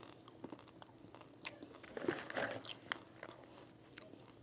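Dark chocolate peanut M&Ms are chewed close to the ear, with a few crisp crunching bites and softer chewing that follows in a quiet room.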